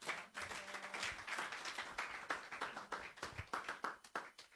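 A church congregation claps and applauds together in dense, continuous, fairly even clapping that carries on throughout, with no voices standing out.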